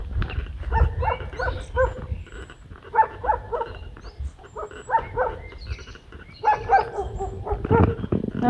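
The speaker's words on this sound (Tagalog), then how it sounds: "Ang ingay ng aso." Several dogs bark repeatedly in short clustered bursts along a road at dusk, some close and some farther off, with a steady low rumble of outdoor background noise underneath.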